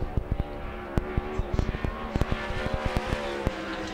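A dirt-track race car runs an opening qualifying lap, its engine droning steadily with a rapid series of sharp popping bursts on the throttle, loud and fairly close, with a faint announcer voice underneath.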